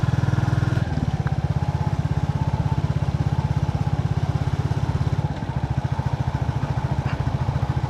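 Motorcycle ridden on a long tree-shaded rural road, its engine throbbing in a steady rapid pulse close to the mic, with a brief dip in tone near the start and again toward the end, no speech.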